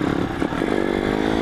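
A small motorcycle engine revving close by with a brief wobble in pitch as a gear is accidentally shifted up instead of down, then a steadier rising drone.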